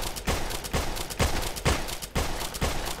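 Repeated shotgun blasts in the zombie shooter game GIBS, about six sharp booming shots spaced roughly half a second apart, loud and evenly paced with no talking.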